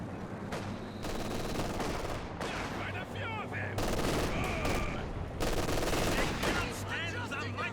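Calliope rocket launcher in Company of Heroes 2 fires on infantry amid a busy battle, dense bursts of explosions and gunfire rolling together loudly, with brief quieter gaps between barrages.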